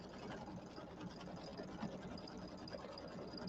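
An embroidery machine stitches a settee pillow design, giving a faint, steady mechanical whir and rapid rhythmic chatter that runs continuously and alone at low level.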